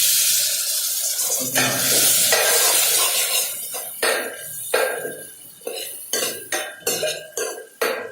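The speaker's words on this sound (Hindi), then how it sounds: "मसाले को अच्छी तरह भूनेंगे" Spices fry in a hot pan for dal khichdi with a steady broadband hiss, followed by a run of sharp metallic scrapes and clinks as a utensil stirs them.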